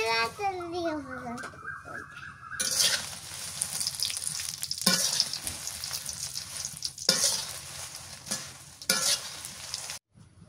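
Garam masala spices frying in hot oil in a village kitchen, a loud continuous sizzle with stirring clatter, while children's voices and other people talk over it.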